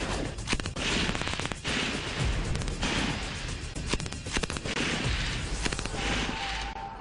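Gunfire from Sashastra Seema Bal (SSB) weapons training, a rapid run of sharp, loud shots in bursts and single cracks that repeat throughout, with no talking.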